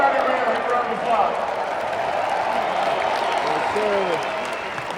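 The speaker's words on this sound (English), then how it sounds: "give Johnny Red a round of applause." Arena crowd at a basketball ceremony applauding in a dense, continuous roar of clapping and cheering, with voices mixed through it, fading slightly at the end.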